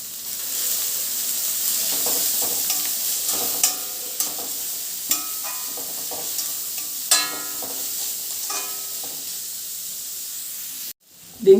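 Beans and capsicum stirred in a hot pan for Schezwan fried rice, a steady sizzling hiss under repeated scraping and clattering strokes of a spoon, close and fairly loud, ending with a brief louder clank.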